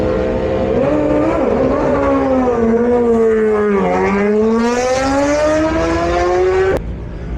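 A superbike sets off from the start of the Isle of Man TT race on Glen Crutchery Road, its engine screaming loudly and steadily as it pulls through the gears with brief dips between shifts, close and continuous before cutting off abruptly.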